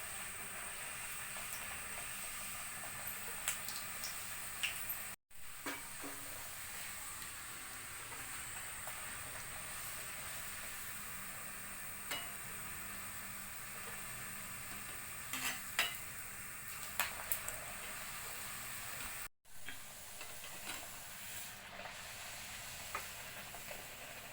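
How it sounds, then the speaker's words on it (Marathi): Tomato puris deep frying in hot oil give a steady, moderately quiet sizzle and crackle throughout, with small bubbling pops and brief stirring sounds, and no talking. "बाकीच्या पुऱ्यासुद्धा आपण अशा छान तळून घेऊयात"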